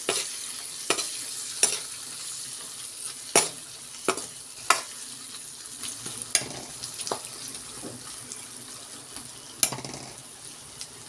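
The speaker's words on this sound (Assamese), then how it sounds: "আলুকেইডোখৰ মই ভালদৰে মিক্স কৰি ল'ম" Potatoes fried with spices in a pan, with a soft steady sizzle under repeated sharp scraping and clinking stirs at irregular intervals, close by and with no talking.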